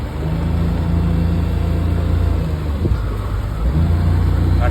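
A small fishing boat's outboard engine runs steadily at high throttle during an evening fishing trip, a loud continuous drone with a slight dip near the middle and no speech over it.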